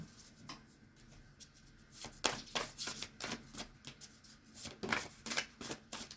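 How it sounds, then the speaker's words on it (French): Oracle cards shuffled by hand during a card reading: a run of quick riffling, flicking bursts that grow louder and denser midway, close and alone with no talking. "Hop là, on va mélanger l'oracle."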